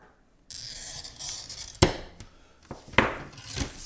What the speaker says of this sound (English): That's my glass cutter head depressing.